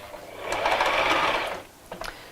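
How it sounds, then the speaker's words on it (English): A sewing machine stitches down the side of a child's first tote bag in one fast, close, steady run of about a second, then stops, followed by a few brief mechanical clicks. "I'm just going to sew down the second side as well."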